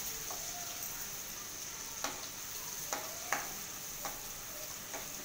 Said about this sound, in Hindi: जीरा ऐड करने के बाद इसमें चॉप प्याज डालेंगे।